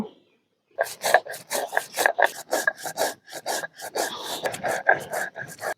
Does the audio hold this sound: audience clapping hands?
no